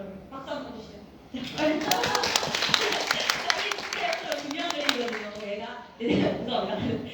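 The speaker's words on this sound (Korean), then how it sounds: "여러분 박수 한번 주시죠." An audience at a climate-change open seminar in a Seoul National University lecture hall breaks into a few seconds of scattered clapping and light laughter, with a lecturer talking before and after.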